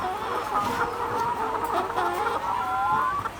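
A sick chicken on a village farm clucks and murmurs in a steady, close run of low throaty calls, with other fowl faintly around it and no talk.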